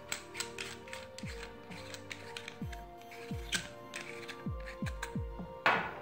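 Lens being unscrewed from a homemade high-power laser, a run of close ratcheting, gear-like clicks with small creaks in an uneven rhythm, with no talking.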